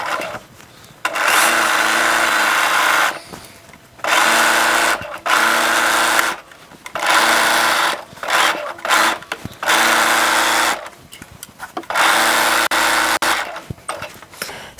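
A sewing machine stitches a denim shirt, running loud and close in repeated bursts of rapid whirring separated by short pauses.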